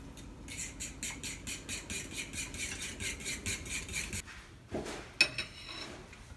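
Fajita seasoning is mixed briskly in a bowl, making a steady run of rhythmic scraping strokes for several seconds before it stops, followed by a few scattered clinks and taps, close and without voices.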